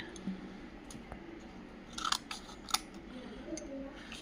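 Scissors snip through pressed paper craft material for a crocodile craft, a few quiet close cuts clustered together with small clicks between them, with no talking.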